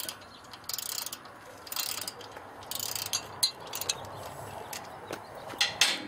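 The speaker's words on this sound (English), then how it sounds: "Takes an 8mm hex, regular socket" Ratchet wrench with an 8mm hex socket loosening motorcycle footpeg hardware, heard as several short bursts of rapid clicking, close and fairly quiet, with a few sharper metallic ticks near the end.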